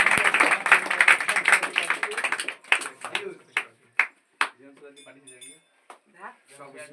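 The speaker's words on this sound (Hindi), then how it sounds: "मयंक के लिए एक जोरदार ताली का स्वागत किया जाए।" A crowd claps loudly for a student named Mayank at a school prize event. The dense applause thins after about three seconds into scattered single claps and faint clinks while voices talk over it.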